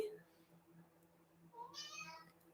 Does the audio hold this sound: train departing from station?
no